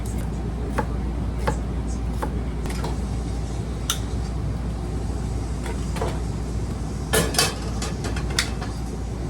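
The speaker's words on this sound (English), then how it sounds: "I'm gonna start off with peeling and chopping shallot and garlic" Shallot and garlic are peeled and chopped on a board in a small RV kitchen. Sharp, scattered knife taps sound close by, with a quicker cluster near the end and no talking.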